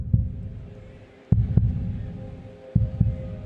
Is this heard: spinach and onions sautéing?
no